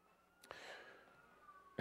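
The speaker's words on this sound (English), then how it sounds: "Calder was asking me the other day, why are there always sirens when you're talking" A police siren wails faintly in the distance for a moment, a thin rising-and-falling tone set against a quiet indoor room, with no one speaking.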